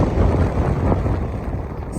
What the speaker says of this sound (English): sorry, it's a little bit windy.